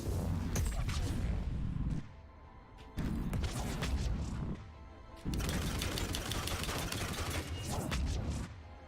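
Rapid gunfire from an Atlas mech in Mass Effect 3, three sustained dense bursts of loud automatic fire separated by short lulls, close and harsh.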